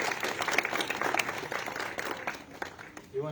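An audience at a devotional gathering gives a brief round of applause, moderately quiet clapping that fades out toward the end under some background voices.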